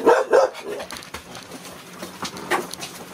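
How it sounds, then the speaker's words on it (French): Dogs barking indoors, two sharp close barks at the start followed by scattered fainter yips and whimpers. "Excusez-moi, ce sont mes chiens."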